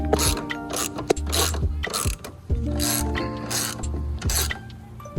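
A ratchet wrench loosens a coilover bolt on a car, rapid clicking pawl bursts repeated several times in close succession, loud and near with brief pauses between pulls.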